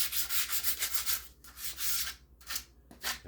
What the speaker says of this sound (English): I'll finish the sanding on this